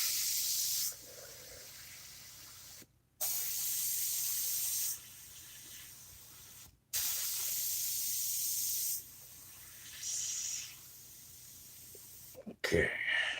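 An airbrush sprays paint onto a camouflage-taped model Spitfire in several separate hissing bursts of a few seconds each, with short silences between them. The sound is close and steady, ending with faint handling noise.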